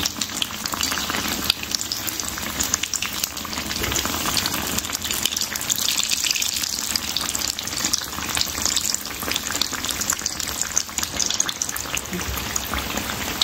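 Bread aloo patties fry in hot oil, a constant crackling bubble up close, with small stirring and turning noises mixed into the steady sizzle, and no voices.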